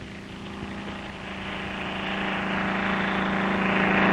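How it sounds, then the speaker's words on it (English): Royal Navy helicopter flying from a ship in the sixties, a steady droning rotor and engine hum that grows gradually louder as it approaches. "And back goes the chopper for yet another one."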